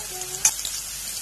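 Chopped onion hits hot oil already crackling with cumin in a pan, producing a brief burst of sizzle over a steady faint frying hiss, close and fairly quiet.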